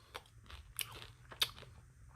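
Someone bites and chews a crunchy room-temperature chocolate bar, several sharp crisp crunches spaced irregularly, close and quiet, with no talking.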